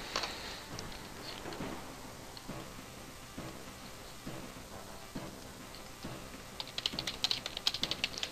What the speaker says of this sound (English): Sorry, I'm typing on Skype really fast.